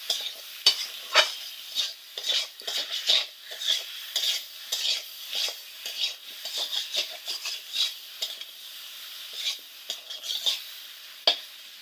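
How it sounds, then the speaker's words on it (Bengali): Fish pieces and yam frying with salt and turmeric, heard as a faint crackling sizzle under frequent quick scrapes and taps of a spatula against the pan, irregular and close throughout. "এখন আবার একটু ভেজে নেব"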